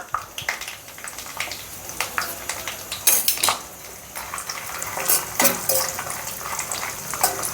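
Cashews, raisins and almonds fry in hot ghee for rava laddu, with soft sizzling under repeated close metallic scrapes and clinks of a spoon stirring in the pan, and no voices.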